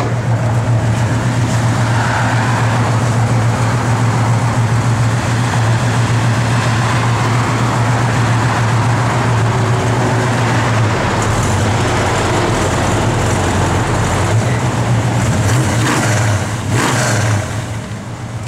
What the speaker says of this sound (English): Car's got a great sound.